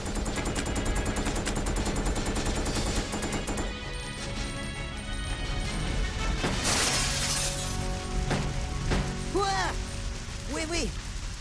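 Gunfire in the survival-horror video game Resident Evil: Code Veronica X, several sharp shots and bursts ringing over a dense, loud game soundtrack, with a voice heard partway through.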